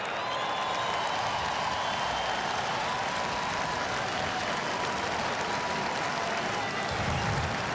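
A stadium crowd at a Cubs home game against the Dodgers applauds and cheers in a continuous roar of clapping, with some voices rising within the noise.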